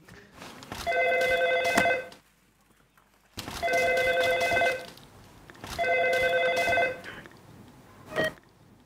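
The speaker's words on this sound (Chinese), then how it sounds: "第一个电话，这个 久违的铃声" An old-fashioned telephone bell rings in three long, loud bursts separated by pauses, with a short fourth ring cut off at the end.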